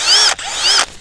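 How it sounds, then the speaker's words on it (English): Milwaukee Fuel lithium cordless drill running in two loud bursts, whining up to speed, briefly stopping, then spinning again close by with no talk. "You don't have to have a Milwaukee Fuel lithium drill."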